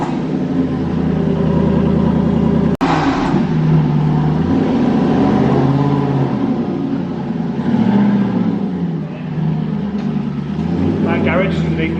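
An Aston Martin sports car with a manual gearbox is started for the first time. There is a sharp crank-like burst, then a loud engine that settles into a rumbling idle with small revs. People talk over it close by.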